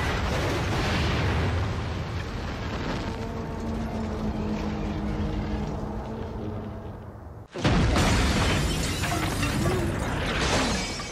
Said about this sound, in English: The explosions that we did, we blew up what was the Townsend Agency.